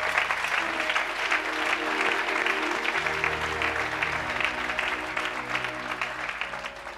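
A congregation at a church seminar in Brussels claps steadily and loudly in sustained applause, with sustained musical tones underneath.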